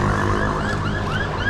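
An ambulance siren wails in repeated rising sweeps over steady traffic rumble on city streets at 2 a.m., fairly loud and close by.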